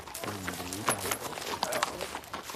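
Horses walking at a horse-driven gin on an old-style farm, with soft irregular hoof clops against a background that includes a voice talking.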